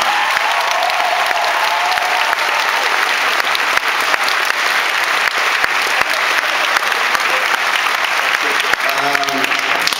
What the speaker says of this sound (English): So, so give them a big round of applause.